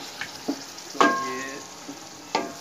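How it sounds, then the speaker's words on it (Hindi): Ingredients stirred into spices frying in a pan, a soft steady sizzle broken by a few light metallic taps and one ringing clink of the utensil against the pan. "अब इसको मिक्स कर लेंगे अच्छी तरह पहले वाले मसाले में।"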